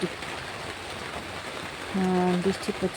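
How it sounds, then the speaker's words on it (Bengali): Evening rain patters steadily on a rooftop, a soft, even hiss with scattered drips, and a louder droning tone swells briefly near the end. "টুপ টুপ করে বৃষ্টি পড়ছে।"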